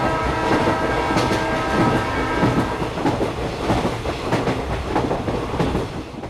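A train runs steadily along railway tracks, its continuous rumble carrying a rhythmic clickety-clack of wheels over rail joints throughout, loud and close with no voices.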